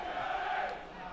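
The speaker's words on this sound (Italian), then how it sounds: "è bello sentire anche i tifosi friulani" Udinese supporters in a stadium during a match against Pordenone, a broad distant crowd roar and chant that holds steady for a moment then eases slightly, heard from afar with no talk on top.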